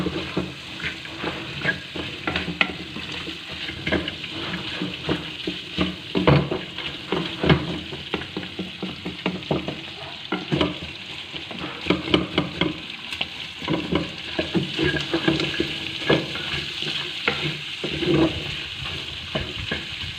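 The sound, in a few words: cumin frying and being stirred for beef karahi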